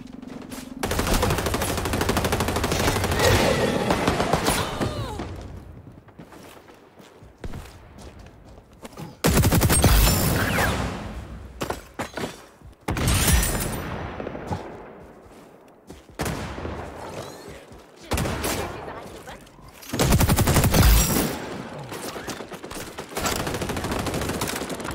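Gunfire from the video game XDefiant comes in loud repeated automatic bursts, separated by short quieter gaps, with some single shots.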